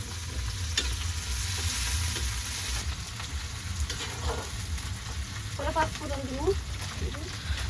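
Dal is tempered with garlic and five-spice in hot oil on a village clay stove, giving a steady loud sizzle and frying hiss with stirring throughout. Someone talks over it toward the end.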